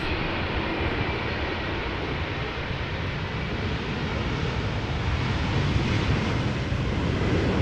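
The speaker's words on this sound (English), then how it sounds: "777 arriving from Guayaquil." A Boeing 777 arriving at Amsterdam Schiphol Airport in a crosswind, its engines a loud, steady broadband roar with wind rumble that stays constant throughout.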